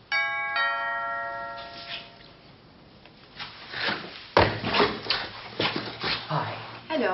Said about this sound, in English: Tom, your doorbell is still ringing.